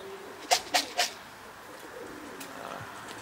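A stray racing pigeon from another loft coos near a loft in Kosakowo, Poland, during a club race arrival, three short soft coos in quick succession over quiet outdoor background.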